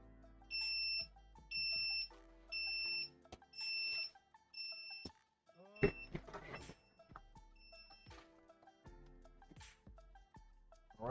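A kitchen timer goes off during mug making, giving four even bursts of electronic beeping, then fainter beeps among clatter, clicks and handling noises of a small room.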